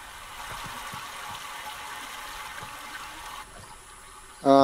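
Steady flowing water in Myst VR's mechanical age, a soft continuous rush that drops quieter midway before a sharp tonal mechanical sound at the end.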